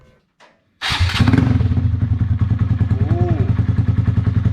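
Honda Grom motorcycle fitted with a Zoom exhaust starts up with a burst of cranking, then idles in a loud, steady, close-range rapid putter, with a brief voice reacting just before it fires.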